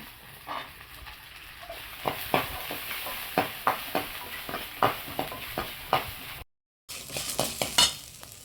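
Chillies, ginger, garlic and onion sauté in a pan for mint chutney, with a steady sizzle under repeated scraping and clinking stirs of a utensil and a brief dropout near the end.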